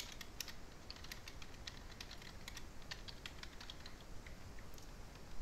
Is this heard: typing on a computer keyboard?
yes